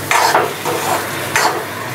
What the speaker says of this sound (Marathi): आणि चांगलं हलवून घेणार आहे मी.